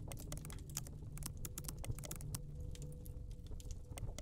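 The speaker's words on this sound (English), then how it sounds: "You're typing." Quick clacking keystrokes on a computer keyboard in a horror video game, irregular bursts of typing heard close and fairly quiet, with no voices over them.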